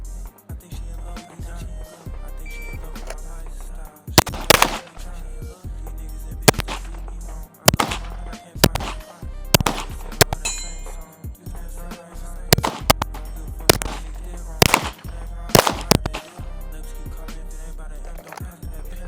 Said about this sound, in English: He's shooting the Glock 17 Gen 5.